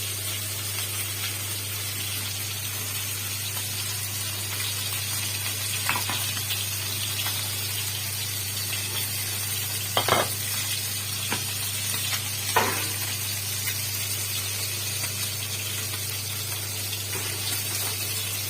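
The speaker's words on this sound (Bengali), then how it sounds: "একটু লাল করে ভাজবো মাছটাকে।" Fish shallow-frying in a pan, a steady hissing sizzle over a low constant hum, with a few faint clinks and scrapes scattered through and no voices.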